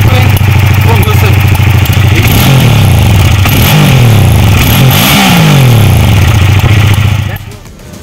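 A Hyosung Aquila ST7 V-twin motorcycle revs near the microphone, its idling rumble rising and falling through several throttle blips in a row before cutting off abruptly at the end.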